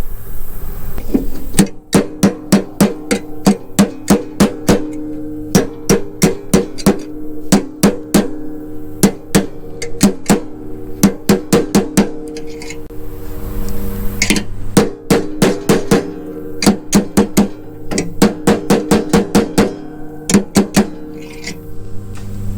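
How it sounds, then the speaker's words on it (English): A hammer taps an old bearing down onto a spindle in bursts of rapid, sharp metallic strikes, loud and close, pausing between runs of blows. "And then I'm going to get the old bearing. That way I can tap it down."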